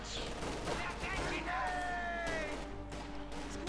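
Mortars and gunfire in the World War II strategy game Company of Heroes 2, with dense bursts of shots and explosions under steady commentary, plus a rising whistle as shells fly in the busy battle mix.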